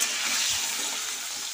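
Potato pieces frying in hot oil in a home kitchen, a steady bright sizzle with faint stirring bumps, even and close.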